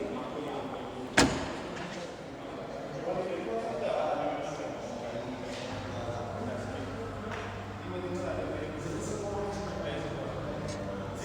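The boot lid of a 2021 Nissan Almera Turbo 1.0 VLP is shut with a single sharp thud early on. Afterwards, indistinct background noise and murmuring continue.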